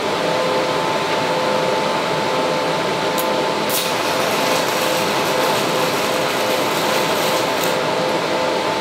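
Continuous loud hiss and buzz of a TIG welder arc set to 70 amps, on a machine whose foot pedal fails to adjust amperage, steady and close throughout, with no talking.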